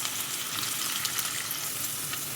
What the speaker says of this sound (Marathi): आता त्याच्यामध्ये कांदा टाकते.